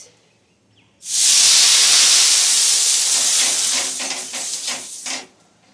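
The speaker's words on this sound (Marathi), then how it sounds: "आणि मग पाणी टाकायचं" Water poured onto a hot oiled griddle bursts into a loud, sudden hiss of steam that holds steady for a few seconds, then breaks into sputtering bubbles before stopping abruptly.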